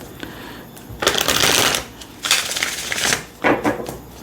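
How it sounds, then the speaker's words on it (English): Tarot cards shuffled by hand at close range in three distinct bursts of crisp, papery riffling separated by brief pauses, with no talking. "I'm going to shuffle."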